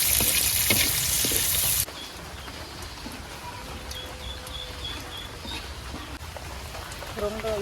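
Onion and chillies sizzle in hot oil as a tempering for a village-style bitter gourd dish, with a loud burst of frying at the start settling into a steady, quieter crackle.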